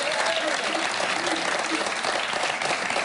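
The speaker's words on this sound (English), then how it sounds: "Here's 4 men applauding, the rest scared to death to applaud next to their wives" Applause from a small group of men in a TV talk-show studio audience, a steady close patter of claps running unbroken throughout.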